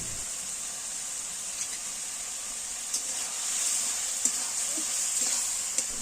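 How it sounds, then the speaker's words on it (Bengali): Tomato and date chutney being stirred with a metal spatula in a pan, a faint steady sizzle with a few light scraping taps. "এই মশলাগুলি দেওয়ার পর খুন্তি দিয়ে ভালো করে নাড়াচাড়া করে দিয়ে পরিমাণ মতো চিনি দিয়ে দিচ্ছে"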